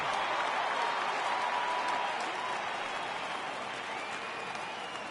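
Baseball crowd in MLB The Show 18 rising into steady cheering and applause, a dense, even roar of a stadium audience that holds for several seconds with a slight fade toward the end, no voices standing out.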